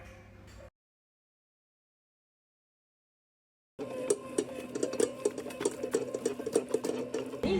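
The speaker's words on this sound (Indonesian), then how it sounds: "Yudane ini akan kita campurkan dengan adonan donat yang lagi di mixer ini." An electric mixer kneads donut dough with a steady, loud motor whir and rhythmic churning. It starts abruptly after a brief sound and about three seconds of silence, then continues alone.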